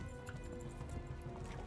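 A horse's hooves clip-clop in a steady galloping rhythm while riding in the game Kingdom Come: Deliverance, a continuous moderate-level beat under a low ambient hum.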